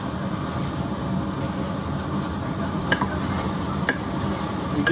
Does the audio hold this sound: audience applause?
no